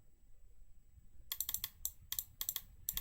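Rapid typing on a computer keyboard during a coding speedrun, heard as crisp, close clicks in quick bursts of several keystrokes separated by short pauses, over a quiet low hum with no voices.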